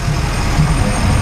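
Heavy Armor Regiment vehicles from Accra roll past at a national independence anniversary parade, a loud, steady low engine rumble with no breaks over the whole stretch.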